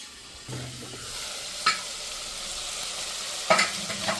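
Tomatoes and masala sauté in a pan with a soft, constant sizzle. A spatula scrapes and stirs them in a few distinct strokes.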